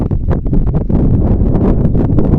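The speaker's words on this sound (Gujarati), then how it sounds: "પવન જો અટાણે બહુ ઉપડી ગયો" Strong wind buffets the microphone outdoors at a sesame farm, a loud continuous rumbling roar with gusting surges throughout.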